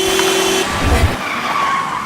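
A car skids on a road with a sustained tire squeal, followed by a short low thump like an impact, heard up close with no talking.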